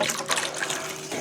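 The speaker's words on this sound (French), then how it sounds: "Ensuite, je rajoute le lait," Milk being poured into a crème caramel mixture, a continuous close liquid trickle and splash running steadily for about a second.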